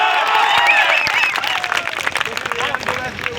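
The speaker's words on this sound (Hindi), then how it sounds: "एक एक शख्स एक बार हाथ खड़े करके ताली बजा दे" An audience at a kavi sammelan, a Hindi poetry gathering at DPS Dhanhara college in Sitamarhi, claps with raised hands: dense, continuous applause that rises and thins over a few seconds, mixed with crowd murmur and background noise.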